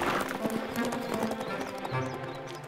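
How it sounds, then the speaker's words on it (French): A wild horse galloping in the Yakari cartoon, steady close hoofbeats under a busy soundtrack with music and brief voices. "Un cheval sauvage!"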